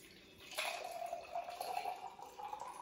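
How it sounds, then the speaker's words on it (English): Giggle Juice drink poured over ice, a soft steady stream starting after a brief quiet moment, faint and close with light splashing. "So now I'm just going to pour it in"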